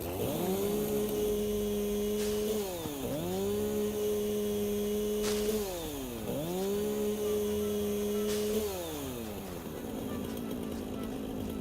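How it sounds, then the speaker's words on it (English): Chainsaw in the video game Satisfactory, a droning engine tone that revs and dips several times in repeated cutting cycles, steady and close. "Alright, more chainsawing."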